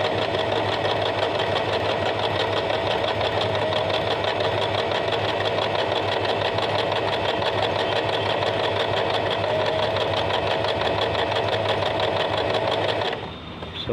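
A Usha Janome Allure DLX sewing machine runs steadily while stitching a hem, a close, continuous mechanical whirr with fast rhythmic needle clatter, stopping abruptly near the end.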